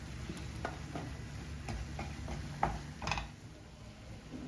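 Pineapple and sugar stirred in a pan for a curry, a soft steady sizzle under a run of light scraping and tapping strokes, with a couple of sharper clinks near the end.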